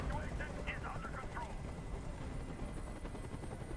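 A helicopter in the Detroit Become Human game, a dense, steady rotor roar filling the scene at moderate loudness with faint crackles mixed in.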